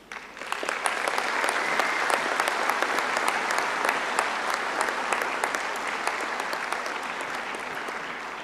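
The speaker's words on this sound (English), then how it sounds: "please don't be frightened to give them a big cheer as they cross up front here" A large audience at a 2022 graduation ceremony claps steadily and loudly for graduates, the dense applause sustained throughout with sharp individual claps standing out near the microphone.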